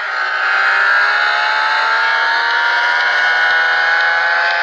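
Lotus F1 car engine in the Real Racing 3 game, a loud, sustained high-pitched racing engine scream holding a fairly steady pitch with slight rises, close and alone.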